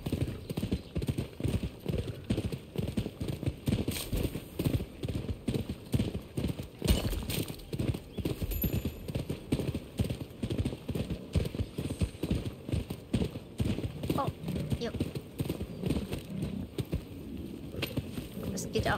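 Steady, rhythmic clip-clop of horse hooves trotting in the video game Rise of the Ronin, close and continuous, with an occasional faint whinny underneath.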